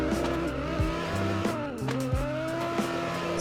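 A 1,129-horsepower racing video game car with a VQ engine screeches its tires through a skid while the engine drones and revs near 7,300 RPM, a steady loud roar with sliding squeals rising and falling.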